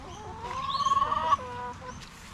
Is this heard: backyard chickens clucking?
yes